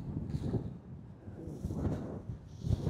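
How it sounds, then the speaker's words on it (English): Wind buffets the microphone in low, rumbling gusts on a golf course, swelling and fading unevenly, with no voices, only the blustery roar. "You can see just how windy it is. Apologies if the audio is suffering"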